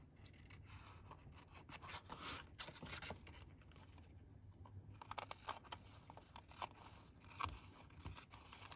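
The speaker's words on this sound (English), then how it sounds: "let's trim this off now." Scissors trim baby-wipe stamp-off paper, making quiet close snips and papery rustles in a soft, irregular run.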